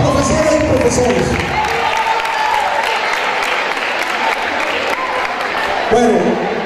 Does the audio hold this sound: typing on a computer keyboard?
no